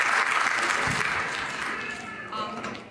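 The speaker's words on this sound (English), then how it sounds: "Let's have a big round of applause" An audience at a Diwali celebration applauds, the clapping fading gradually while a voice and tonal sounds carry over it.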